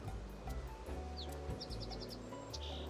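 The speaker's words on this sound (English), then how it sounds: "I swear they've added new bird sounds as well" Birds call in the video game Project Zomboid: a few isolated chirps, then a quick run of five or six short, bright tweets and a final call, all moderately close over a steady low ambient hum.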